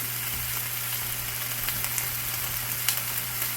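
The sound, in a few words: food browning in a pan on the stove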